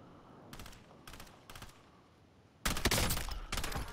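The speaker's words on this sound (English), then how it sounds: "Shooting behind us here." Gunfire in a multiplayer shooter video game: several short bursts of shots spaced apart, then a loud, dense sustained volley of automatic fire close by.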